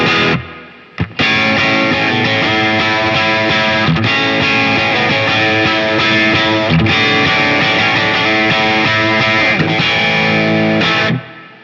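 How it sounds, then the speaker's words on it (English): Distorted electric guitar through a Quad Cortex worship preset, a loud, sustained chorus-tinged tone of chords ringing steadily for about ten seconds after a brief pick attack, with no talking. "Occasionally, I think I would use this as like a distortion sound"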